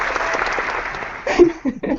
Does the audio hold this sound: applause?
yes